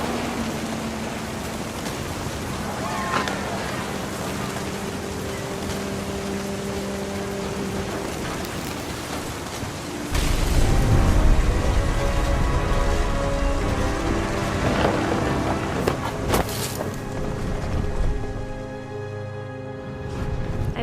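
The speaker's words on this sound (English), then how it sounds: "The thunder sounded much too close and full of angry power" Steady rain hisses through a thunderstorm in the video game What Remains of Edith Finch, with a heavy rumble of thunder rolling in midway and music tones lingering beneath the downpour.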